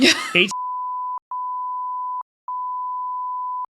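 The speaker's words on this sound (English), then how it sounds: "You can censor it. Just beep it." A steady, loud electronic censor bleep at a single pitch plays over a spoken street address, broken into several long tones by short gaps, after a brief bit of talking at the start.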